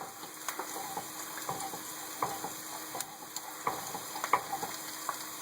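Meat sizzles as it fries in a pan with onions and jalapenos, a steady hiss broken by irregular utensil scrapes and clicks while it is stirred, close and moderately quiet.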